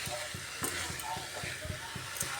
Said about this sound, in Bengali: এভাবে বাঁধাকপি আলু সুন্দরভাবে কষিয়ে নিতে হবে